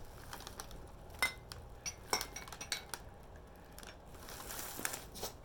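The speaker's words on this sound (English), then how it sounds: "So I got four cobalt blue champagne glasses." Four cobalt blue champagne glasses clink and tap against each other in several faint, scattered glassy strikes over a low background hiss.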